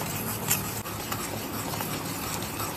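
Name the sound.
jaggery being stirred vigorously in a pan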